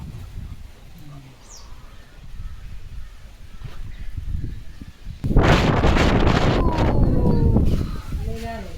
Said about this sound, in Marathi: लय वारा सुटलाय